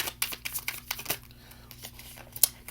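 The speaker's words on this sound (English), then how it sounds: "Let's shuffle again." Tarot cards are shuffled in quick, irregular bursts of papery riffling and crinkling, close and fairly quiet, with a sharper snap near the end.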